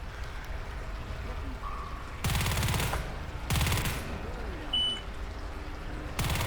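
Bursts of gunfire in a video game, three separate rapid volleys of shots cutting in loudly over a quieter ambient background with small beeps.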